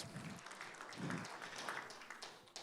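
A church congregation claps together in praise during a Portuguese-language sermon, a brief, fairly faint burst of applause that rises and then fades over a couple of seconds.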